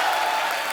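Studio audience applause on a comedy talk show, a brief dense wash of clapping that stays loud and even throughout.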